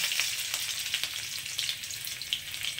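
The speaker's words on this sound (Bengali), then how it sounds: "তো এইগুলোকে আমি একটু এখন ভালো করে ভেজে নেব, লাল লাল করে" Chopped garlic with dried red chillies sizzles and crackles in hot oil, a close, steady frying hiss with scattered pops and no voices.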